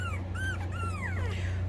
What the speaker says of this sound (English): Well, there's a little bark.